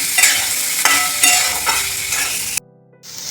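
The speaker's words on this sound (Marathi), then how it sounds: "आपण त्यात बटाटा घालून घेऊ बटाटा पण व्यवस्थित भाजून घ्यायचे" Potatoes for upvas bhagar sizzle steadily in a hot pan while a utensil scrapes and stirs in repeated strokes, close up, then the sound briefly drops away.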